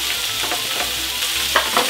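Sliced zucchini sizzle in butter in a pan for a gratin, a close, even frying hiss broken by a few soft stirring scrapes.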